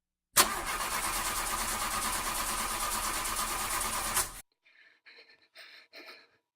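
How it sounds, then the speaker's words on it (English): A truck engine cranks loudly and steadily for about four seconds without catching, then cuts out, followed by a few short, weak sputters. "tried to turn the key, but the truck wouldn't turn over"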